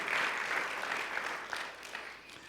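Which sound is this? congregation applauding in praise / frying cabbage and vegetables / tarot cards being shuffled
congregation applauding in praise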